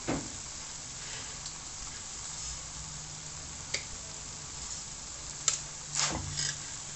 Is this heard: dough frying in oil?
yes